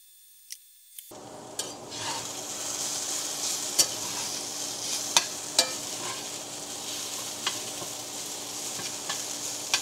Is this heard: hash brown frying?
yes